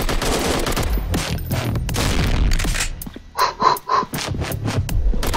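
Video game gunfire crackles loudly in bursts and fusillades up close, and after the midpoint it thins into a few separate sharp reports among quieter gaps.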